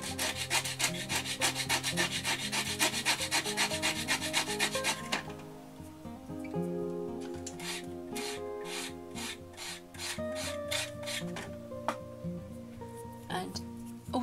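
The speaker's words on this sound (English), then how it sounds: "if you want to clean these, you have to use a bit of sandpaper just to wipe them off." A paper tortillon for soft pastel being rubbed against sandpaper to clean it, giving close, steady scratchy rasping strokes, dense for several seconds, then looser and more intermittent.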